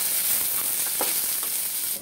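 Crushed garlic drops into a pan of sautéed onions for a brinjal kara kuzhambu, a steady close hiss of sizzling oil with a brief crackle as it lands.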